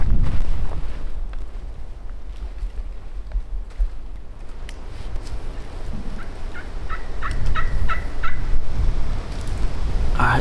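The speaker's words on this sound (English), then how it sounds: "He's gobbling still, but he's kind of going the other way." Several gobbles from a wild turkey on Texas public land come in a quick run toward the end, far off and moderately faint under gusty wind.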